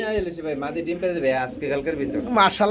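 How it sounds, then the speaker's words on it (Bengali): A pair of black Siraji pigeons coo softly at a pigeon seller's, their low calls mixed in with someone talking nearby. "খুবই সুন্দর কালো কালার এক জোড়া সিরাজি কবুতর দেখতে পাচ্ছি"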